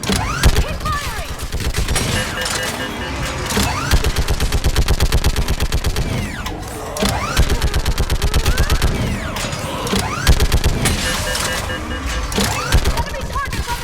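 Sustained automatic gunfire crackles through a Mass Effect video game battle in long rapid bursts broken by short pauses. The fire is loud and close, with booming impacts layered underneath.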